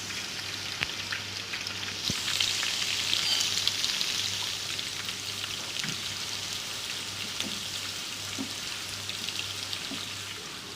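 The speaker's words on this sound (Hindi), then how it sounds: "अब मैं इसके अंदर बारीक कटा हुआ प्याज शामिल कर दूंगी। प्याज को शामिल करके हम गोल्डन करेंगे" Finely chopped onion frying in oil until golden for chicken biryani, a steady hissing sizzle with scattered pops and light ticks, growing louder after the first couple of seconds and holding at a constant level with no voices.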